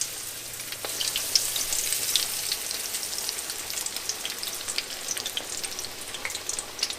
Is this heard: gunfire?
no